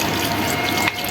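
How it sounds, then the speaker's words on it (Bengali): Water pours steadily onto potted chili and potato plants, a continuous near splashing flow with a brief louder splash near the end. "এই যে আমি গাছে পানি দিয়ে দিচ্ছি।"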